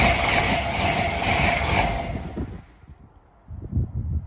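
A Grand Central train from Bradford Interchange to London King's Cross passes close by at Sawmills, a loud rushing roar with clattering wheels that fades after about two seconds, leaving faint rumbling.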